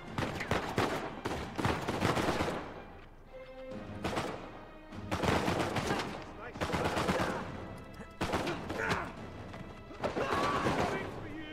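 Turret machine gun fire in Uncharted 4, loud bursts of automatic shots hammering in repeated waves with brief gaps between them, while voices talk over the shooting.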